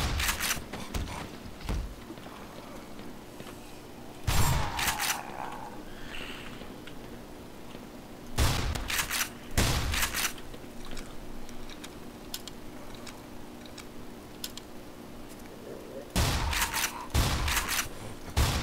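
Gunfire in the video game Black Mesa: several separate bursts of loud shots spread across the stretch, with quieter ambient noise and small clicks between them.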